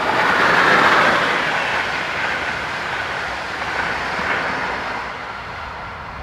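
A Class 1144 electric locomotive hauling a commuter service near Vienna, Austria, passes with a steady loud rumble and wheel noise that is loudest at the start and eases slightly as it rolls on, with no voices.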